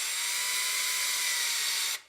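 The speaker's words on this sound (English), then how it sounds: "I'm going to drill it in there" A power drill drives a screw in one steady, loud, high whirring burst of about two seconds, then stops abruptly.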